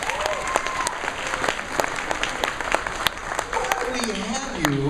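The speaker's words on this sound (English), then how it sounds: "can we give a round of applause for Voice Actor Oki?" Audience applause fills a convention hall during an anime festival's Saturday opening ceremony, steady clapping from a large crowd with scattered cheers and voices talking over it throughout.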